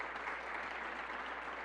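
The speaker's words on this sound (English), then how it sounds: "Let's give her a round of applause" A round of applause for the school principal of the Albany School of Humanities, steady dense clapping from an audience at a governor's education budget announcement, fairly quiet and continuous throughout.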